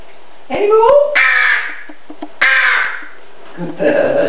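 A crow caws repeatedly while being hand-fed at breakfast, several loud close harsh calls in bursts with short pauses, and a person speaks softly between them.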